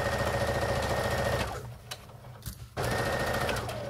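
A sewing machine stitches along a fabric dart in a fast, even mechanical whir, stops for about a second with faint clicks as the needle is set and the foot lifted, then resumes at full speed.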